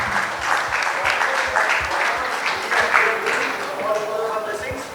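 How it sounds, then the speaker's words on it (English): Sustained applause from a conference audience at a trade conclave in Mumbai, a dense steady clatter of many hands clapping throughout, fairly loud and continuous with faint voices mixed in. "Let's give her a big round of applause."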